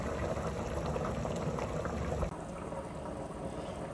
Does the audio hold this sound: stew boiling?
yes